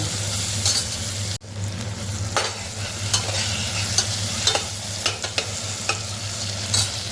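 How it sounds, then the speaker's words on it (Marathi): Onion and tomato sautéing in a pan for moong dal khichdi, a steady close sizzle under a low hum, with a spoon stirring and scraping in scattered clicks and one sharp knock, no voices. "मी थोडंसं आधी टाकून घ्यायचं आपला कांदा टमॅटोवर थोडंसं शिजायला पाहिजे ना म्हणून"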